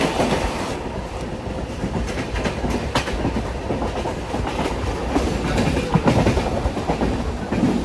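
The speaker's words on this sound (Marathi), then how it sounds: "आता आमची ट्रेन आली" A train runs through the night, its wheels clacking over rail joints in a loud, close, rhythmic clatter that sounds as if it comes from on board, with no voices.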